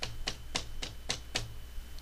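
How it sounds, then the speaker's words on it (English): Five or six light, sharp knocks on a door in quick, even succession, faint against a quiet room background, with no voices. "And there come a knock on the door"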